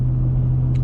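Low, steady rumble of a car cruising on a highway, a continuous loud engine and road drone from inside the vehicle with no break, lasting under a second.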